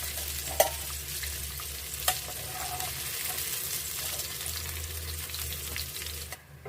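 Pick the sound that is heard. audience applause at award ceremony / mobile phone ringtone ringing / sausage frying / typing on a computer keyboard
sausage frying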